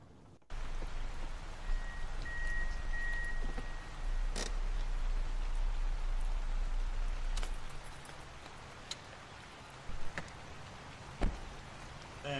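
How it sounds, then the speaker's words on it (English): Steady rain patters and hisses outdoors at night during a security guard shift, a continuous close wash with a few sharp knocks and clicks breaking through, no voices. "And it's raining,"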